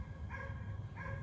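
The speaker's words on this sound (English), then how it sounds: "this other dog barking at my dog every day" A neighbouring dog gives two short barks a moment apart, at moderate distance and fairly quiet, over low background noise.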